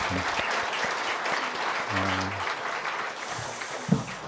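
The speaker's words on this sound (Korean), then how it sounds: "이 모든 은혜를 주신 하나님께 우리 감사의 박수를 한번 하겠습니다." A congregation claps in thanks at a church founding service, a full sustained round of applause with brief tones and a voice briefly breaking through underneath.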